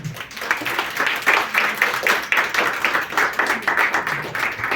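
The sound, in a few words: audience applause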